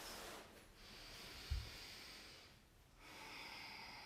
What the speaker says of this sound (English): Breathing into the nose.